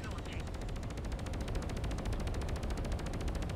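Rapid, evenly spaced bursts of spaceship cannon fire from the space combat game Fractured Space, a steady rattling stream lasting the whole stretch over a low rumbling game background.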